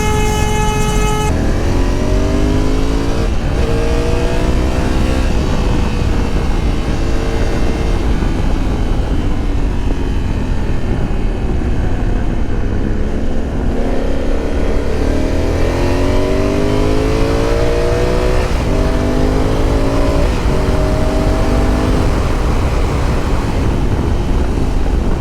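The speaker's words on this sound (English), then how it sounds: "Let me just shut up and let you listen to the bike sound" A Honda Africa Twin motorcycle engine revs and shifts through gears while riding. The rising and falling pitch sweeps repeat under constant loud wind buffeting, with a brief horn-like tone at the very start.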